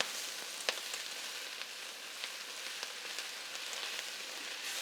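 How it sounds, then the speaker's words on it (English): Trevisano radicchio sizzles steadily in a hot frying pan, a continuous bright crackle with scattered sharper pops throughout, close and fairly quiet with no voices. "you want to fry it until it doesn't have too much bite anymore"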